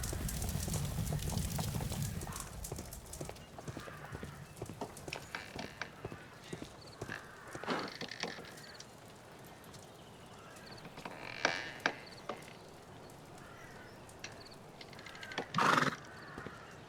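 A horse in a Sherlock Holmes game street scene clip-clops steadily on cobbles, with loud neighing bursts and a sharp whinny near the end, alone and fairly close.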